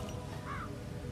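A crow caws briefly from a rooftop in the Dartmoor mission of the video game Hitman 3, a single short call over a steady bed of game ambience.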